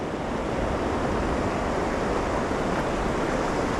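The fast-flowing water of the Weber River rushes in a steady, dense roar, loud and close with no pauses and no voices.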